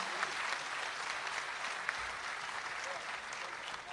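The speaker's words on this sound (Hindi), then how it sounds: "एक बार जोरदार तालियां बजाकर उनसे कहिएगा कि राहत इंदौरी साहब।" An audience at a poetry recital for Rahat Indori gives a continuous round of applause. A dense, hissy clapping texture holds steady throughout, fairly quiet and distant, with faint voices mixed in.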